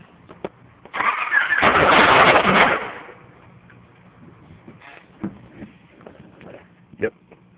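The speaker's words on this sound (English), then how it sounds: "I'm just gonna try to crank her over." A 1992 Honda Prelude engine with a bad exhaust leak cranks without catching: about two seconds of loud, fast churning starter noise, then it cuts out, leaving quiet room sound with a few faint clicks and talk.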